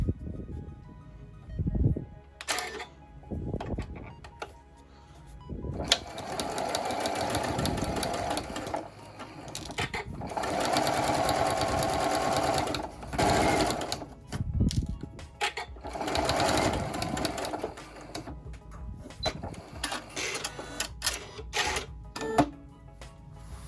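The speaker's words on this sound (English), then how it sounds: "we're going to do another stitch 1/4 inch from the edge" Sewing machine stitching a seam a quarter inch from the fabric edge, a close mechanical whir running in several sustained bursts with short pauses and handling noises between them.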